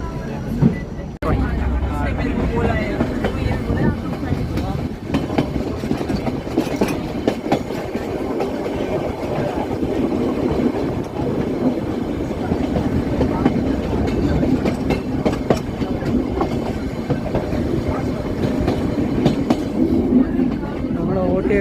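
The Mettupalayam–Ooty toy train runs steadily as heard from inside a carriage, a continuous rumbling clatter with occasional knocks, a voice talking intermittently over it throughout.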